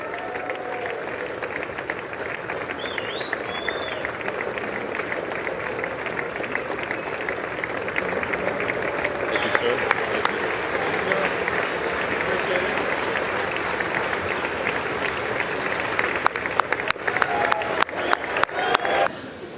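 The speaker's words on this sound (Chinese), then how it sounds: "那这个进场的时候这是2样情因为共和党欢呼民主党还在那边举牌抗议" Applause and cheering fill the chamber of the U.S. Congress as Trump enters for his second-term address, a steady, dense roar of clapping from a large crowd with scattered whoops, building slightly louder toward the end.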